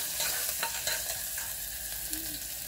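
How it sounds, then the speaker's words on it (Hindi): Ground ginger frying in oil for spicy tomato rice, a continuous close hiss of sizzling with a series of soft spoon scrapes and stirs spaced through it. "अब हम अदरक को अच्छे से भून लेंगे।"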